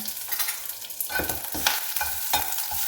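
Curry leaves dropped into hot oil with mustard seeds for drumstick-leaf rasam crackle and sizzle sharply, a close, dense burst of spattering with quick stirring strokes.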